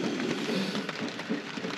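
Steady rain patters on surfaces in the Maine wilderness, a dense even hiss of drops with no pauses, moderately loud and close, without talking.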